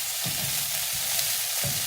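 Green vegetables and kosher salt stirred in a hot pan for a Ghana meat pie filling, steady sizzling frying with a few soft scraping stirs, close up and without talk.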